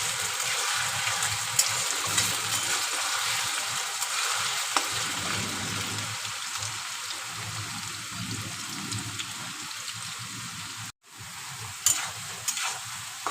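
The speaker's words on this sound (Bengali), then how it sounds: "আলুটা আমার ভাজা হয়ে এসছে।" Potatoes fry in a pan for a Bengali shrimp and fig dish, giving a continuous crackling sizzle with occasional stirring knocks and a brief break near the end.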